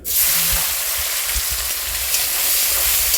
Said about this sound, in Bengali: আচ্ছা তো মাছ ভাজো